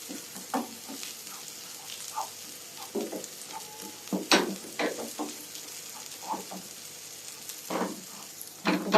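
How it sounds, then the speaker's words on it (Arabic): Two spoonfuls of flour toasting in a pan for a white sauce, giving a soft, steady sizzle with scattered scraping and stirring clicks close by. "وننزل بمعلقتين دقيق لغايه ما يتكرملوا"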